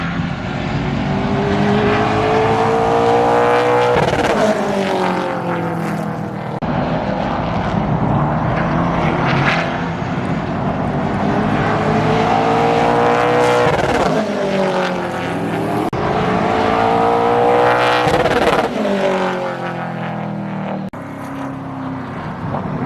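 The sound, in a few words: race car engine, in-car racing footage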